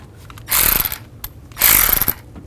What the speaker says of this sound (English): Take the bolt, get the bolt started,